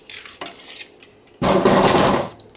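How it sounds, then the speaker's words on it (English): A piece of paper or card for a flip flop journal is cut with a few short snips, then a long, loud, close scraping slice or trim. "So let's give this a chop. So cutting that piece."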